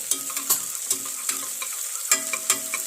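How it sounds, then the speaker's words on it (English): Finely minced shallots sautéing in a pan with garam masala for a traditional country chicken gravy, steady sizzle under repeated scraping stirs of a spoon, close and fairly loud, no talking. "Now we are adding the finely minced shallots and give it a good mix. Let's saute it for a while."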